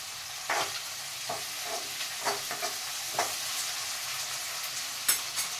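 Curry leaves sizzle in hot oil while frying for a palak paneer curry, a continuous hiss broken by several sharp stirring clicks and scrapes, with no talking.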